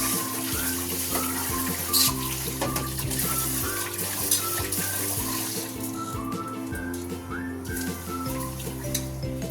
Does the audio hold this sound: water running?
yes